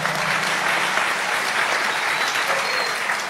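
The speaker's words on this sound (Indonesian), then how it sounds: "tepuk tangan dong" An audience at an Indonesian Islamic religious gathering breaks into loud, sustained applause, a dense continuous wash of many hands clapping at once that stays steady and close throughout, with no speech over it.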